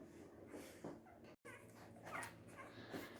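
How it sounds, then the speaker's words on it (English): Tiny newborn Poochon puppies whimper and squeak in soft, irregular bursts close by, their high thin cries rising and falling over a low background hum, with one short break partway through. "Our beautiful little girl has had these most amazing little puppies."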